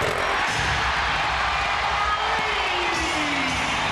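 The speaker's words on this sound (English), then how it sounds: "Crowd gets into it for the first time tonight on the three-pointer by Pat Garrity" Basketball arena crowd at a Lakers vs Magic game rises in a steady roar of cheers and whoops after a three-pointer, a broad, sustained wash of noise with no clear voices on top.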